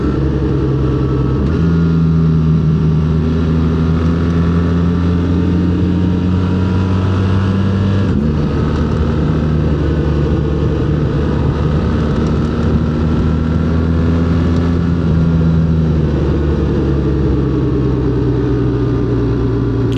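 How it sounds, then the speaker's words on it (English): A 2025 BMW R 1300 GS motorcycle engine drops through engine braking and shifts on an open road, its steady low drone stepping down in pitch several times, loud and close with wind rush, no talking. "Engine braking is a 10."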